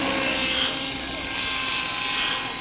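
A model aircraft makes a low grass-cutter pass over a field, its engine a steady, loud buzzing drone that holds throughout with slight swells as it passes.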